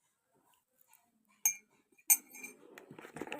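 Spoon tapping against a cup, two sharp clinks in a quiet room followed by lighter clatter and handling of tableware, close and soft.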